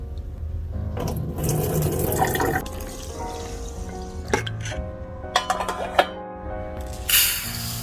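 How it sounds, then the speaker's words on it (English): Barnyard millet grains are washed in water, with splashing, sloshing and swishing of liquid, a few scattered clinks and drips in between, close and fairly loud with no speech. "Wash it with water and keep it aside."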